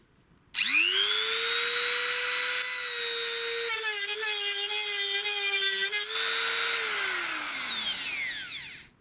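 A DrillPro die grinder with a green bit spins up to a high, steady whine and grinds forging marks off a metal handle, its pitch dipping under load before it winds down.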